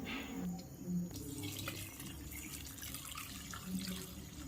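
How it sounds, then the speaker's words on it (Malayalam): Second milk is poured into a pot of broken wheat payasam, making a soft, continuous liquid pour with light splashing, fairly faint and heard alone without talk. "ഈ സമയം 2ാം പാൽ ചേർക്കാം."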